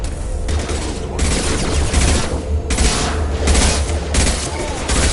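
Heavy high-impact gunfire from the video game Mass Effect 2: loud, close blasts in several sustained bursts that roar back to back over a dense battle din.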